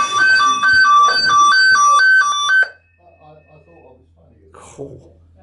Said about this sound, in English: Oh, it does work. That's a Besson sounder.